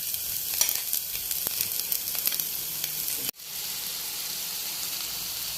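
Spinach sizzles and crackles as it goes into a hot frying pan for a Kerala-style cheera thoran, a steady bright hiss with small pops that cuts off sharply, then resumes more softly.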